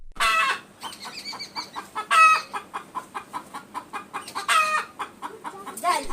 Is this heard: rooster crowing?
yes